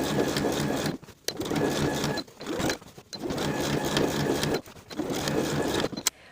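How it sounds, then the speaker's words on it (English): A sewing machine stitches a jeans hem with finishing stitches, running in steady rhythmic bursts of several seconds, separated by brief pauses, close and clear. "sew along my finishing stitches all the way around"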